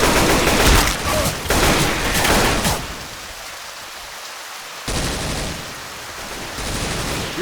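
Rapid gunfire bursts in Left 4 Dead 2, dense and loud in the opening seconds, easing into a quieter stretch before another run of shots returns near the end.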